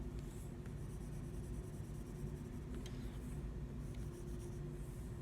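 Pencil lead scratches across paper in continuous strokes while a drawing's background is shaded, a soft, steady hiss up close with short breaks between passes.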